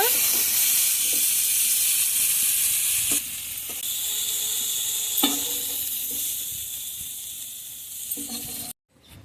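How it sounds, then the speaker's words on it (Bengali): Cauliflower and potato fry in oil in a pan with a steady, close hiss and sizzle, a few stirring knocks, and a quieter stretch before it cuts off. "কপি আর আলু ভালোভাবে ভেজে নিয়েছি এখন উঠিয়ে নেব"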